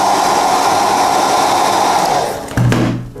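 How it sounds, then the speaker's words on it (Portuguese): A hair dryer blows steadily to dry paint on a painting, a loud continuous whir that cuts off near the end with a click. "seco com o secador"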